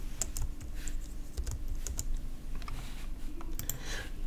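Rapid typing on a computer keyboard, steady quiet clicks and key taps close by with no talk over them.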